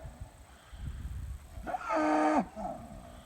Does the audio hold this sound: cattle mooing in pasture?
yes